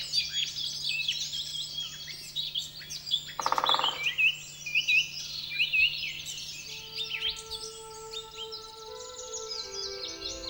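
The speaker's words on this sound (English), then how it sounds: "the birds returned to welcome the dawn with song" Dawn chorus in oak woodland at a Scottish nature reserve: several birds sing and chirp close by with quick, overlapping phrases, a low steady hum underneath and a brief rustling burst partway through.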